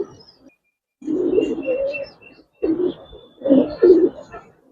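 Giribaz and coloring pigeons coo in a loft, low throaty cooing phrases in three close bursts separated by brief quiet gaps.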